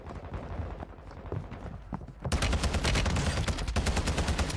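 Gunfire in a battle-royale style video game: quieter scattered shots first, then a loud, sustained rapid burst of automatic fire, close and dense.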